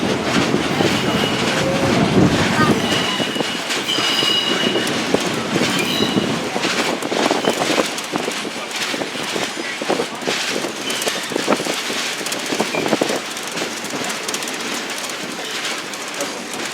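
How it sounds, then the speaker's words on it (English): A loud Verde Canyon Railroad train rumbling across a bridge with rattling clickety-clack wheels and occasional metallic squeals, steady and close throughout. "Yeah, the train on the bridge."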